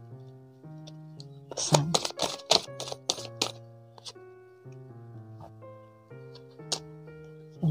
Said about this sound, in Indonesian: Ini sudah kita reshuffle tadi ya, kita tinggal kocok aja.